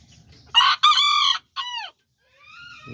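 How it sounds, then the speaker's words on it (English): A little Azteca rooster crows close by, a loud segmented cock-a-doodle-doo in three quick parts, followed by a softer drawn-out call from another bird in the background. "And then there's the little Azteca rooster."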